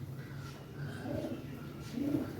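Soft, low pigeon coos repeat a couple of times over faint background noise, fairly quiet and a little distant.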